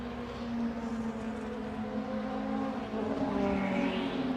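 A 1986 Tom's Toyota H6C Group C race car at Silverstone lapping the track, its engine a steady loud drone with a rising note near the end and no voices.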